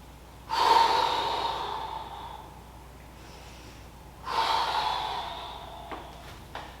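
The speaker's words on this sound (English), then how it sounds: "So again, I inhale." A person breathes heavily during push-up exercise instruction, with two distinct, close breaths a few seconds apart and quiet in between.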